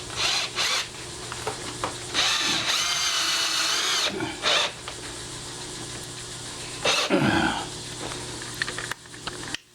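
An electric power drill whirs in several short and longer bursts while driving screws into a deadbolt lock, fairly close, with pauses and handling clatter between runs.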